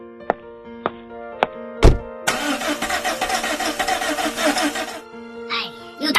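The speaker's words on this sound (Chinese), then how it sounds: "哎，又打不着火了。" A tractor engine cranks but fails to start: a few sharp clicks and a thunk, then a churning starter grind for about three seconds that dies away, close and loud.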